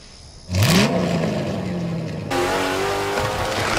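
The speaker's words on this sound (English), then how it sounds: "Just back underway here at the Bristol Motor Speedway." NASCAR trucks at Bristol Motor Speedway roar past loudly, with a sharp engine swell and a falling pitch as they pass, then a steady dense drone of racing engines.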